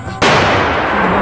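A single firecracker set off during Diwali celebrations goes off with a sudden loud, sharp bang and then a short rumbling decay, close by.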